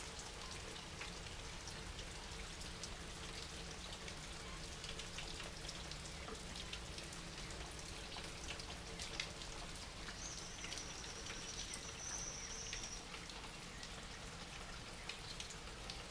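Rain falling steadily in the dry Bahia backlands after a long spell of strong sun and heat, a dense even patter with no talk and a faint bird call briefly in the background.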